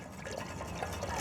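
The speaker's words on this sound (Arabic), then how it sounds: "واول ما نشم ريحه البهارات بدنا نفضي كاستين من المي" Two cups of water are poured onto toasted spices in a pan, a steady soft liquid rush and sizzle running throughout at low level, with no talking.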